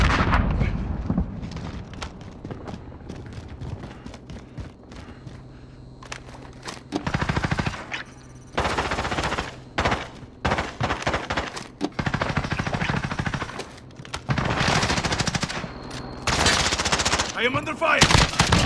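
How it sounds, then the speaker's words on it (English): Machine gun fire in a video game, with repeated loud rapid bursts and gunshots in close succession and brief lulls between them across the whole stretch. "I am under fire!"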